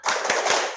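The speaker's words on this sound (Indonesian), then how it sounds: "Coba semuanya tepuk semangat" Students clap the rhythmic 'tepuk semangat' in a classroom, three quick, loud, closely spaced hand claps with no talking.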